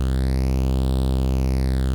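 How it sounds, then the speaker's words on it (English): A steady, buzzy synth tone runs through the FL Studio stock phaser on its default preset, with a slow sweeping notch that rises and falls once across two seconds, loud and continuous with no talk. "So let's load the stock phaser in FL Studio"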